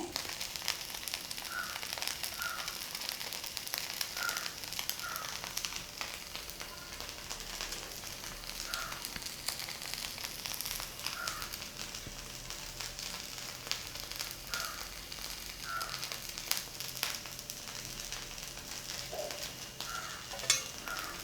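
Onion rava dosa cooks on a pan over a low flame, giving a steady, soft sizzle and crackle that holds evenly throughout, with occasional faint clinks and no voices.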